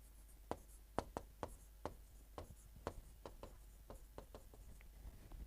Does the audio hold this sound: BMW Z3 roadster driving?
no